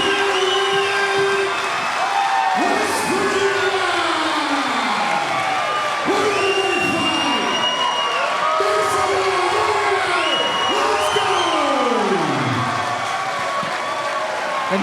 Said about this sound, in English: And the crowd roars its approval.